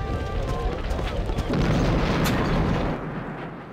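A loud, rumbling fiery explosion from the video game Sid Meier's Pirates! swells midway and sustains as a dense roar before cutting off into a quieter tail.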